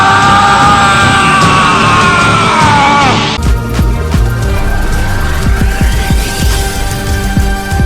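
Gohan from Dragon Ball, transforming into a Super Saiyan form, lets out a loud sustained scream that rises and then breaks off, followed by a throbbing energy hum with rumbling bursts.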